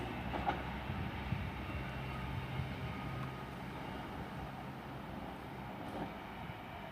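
A train pulling out of Coventry station on a Northampton to Birmingham New Street service, heard as a steady low rumble and rolling wheel noise at moderate distance, holding even throughout with no voices.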